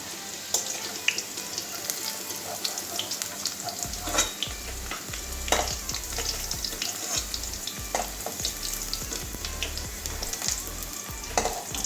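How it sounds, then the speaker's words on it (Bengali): Potatoes and carrots fry in oil with a steady sizzle, occasional scraping stirs and small clinks in the pan; no voices, a constant crackling hiss throughout. "প্রায় অর্ধেকটাই ভাজা হয়ে গেল একটু বেশি তেলে ভাজলে"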